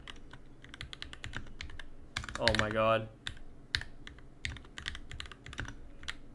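Typing on a newly built NK65 Entry Edition mechanical keyboard, rapid clicky keystrokes in a steady close-up patter, with a brief loud exclamation from a speaker partway through.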